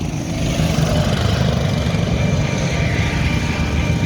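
BMW motorcycles on a track session at Altea, Spain, give a steady, loud engine drone that stays constant throughout with no clear pass-by peak.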